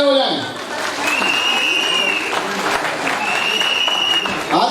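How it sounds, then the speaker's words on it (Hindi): An audience claps loudly at a recognition program, a dense burst of applause that swells, dips briefly and builds again, with a few whoops and voices mixed into the crowd noise. "जोरदार तालियां हो जाएं।"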